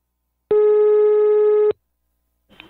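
Single sustained telephone ringback tone on an outgoing prank call, one loud, clear beep lasting just over a second, then silence before a faint new sound begins.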